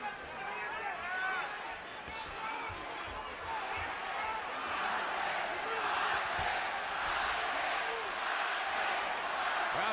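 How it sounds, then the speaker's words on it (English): A boxing arena crowd cheers and roars for Juan Manuel Marquez during his fight with Bradley, a dense, steady wall of voices and whistles that swells slightly toward the end. "Crowd trying to lift Juan Manuel Marquez"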